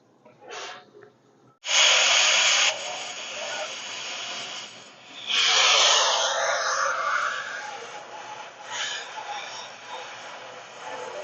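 Harsh hissing bursts of a cutting torch flare up as it cuts a brake anchor off an old 1946 International truck, the loudest a sustained blast near the start, then uneven sputtering roars continue.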